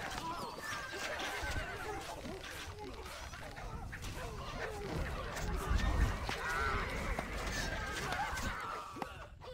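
Horse whinnies and neighs mixed with clip-clop hoof sounds in a medieval strategy video game battle, layered over busy game noise with a voice talking at times.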